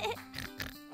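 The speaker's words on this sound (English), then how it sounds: "That was definitely George's oink." George Pig's oink from the Peppa Pig cartoon sounds once or twice in quick grunting bursts over a busy background of music and effects.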